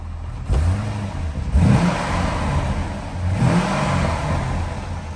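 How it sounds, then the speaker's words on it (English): A 2005 Corvette convertible's engine runs close by, with two distinct revs swelling and falling back to a steady, smooth mid-pitched hum. "Nice strong sounding motor"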